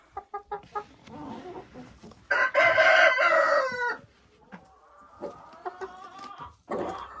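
Hens in a winter coop give a few short clucks, then a rooster crows loudly and close by, followed by softer drawn-out hen calls and more clucking.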